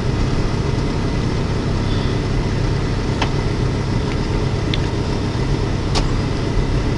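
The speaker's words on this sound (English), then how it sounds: "just out here for a little drive to the shooting range" A car driving along a road, a constant loud rumble of engine and road noise with a few faint clicks and taps inside the cabin.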